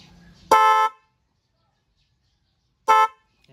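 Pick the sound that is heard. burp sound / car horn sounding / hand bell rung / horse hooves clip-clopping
car horn sounding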